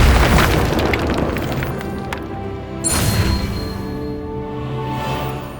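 A fiery Incendio spell cast in the Hogwarts Legacy video game lets out a loud whooshing boom that rolls into a sustained roar, with a second burst of blast near the end.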